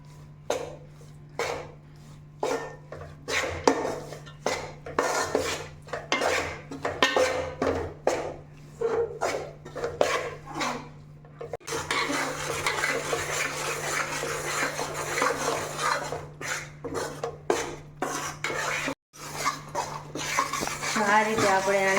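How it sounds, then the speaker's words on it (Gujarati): Gram flour roasting in a pan on low heat while being stirred, repeated scraping strokes of a utensil against the metal with a few clinks over a steady hum; someone talks throughout. "બસ આપણે આ રીતે થોડું હલાવવાનું, આ રીતે"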